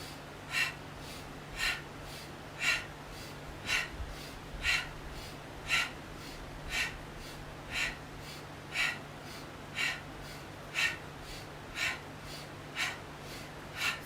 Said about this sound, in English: we'll move to a fast release of the breath with the same movement